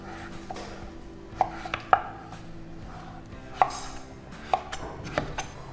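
Knife chopping peeled pumpkin on a board, a handful of irregular sharp thuds and clicks spaced over a few seconds, close up with no talking.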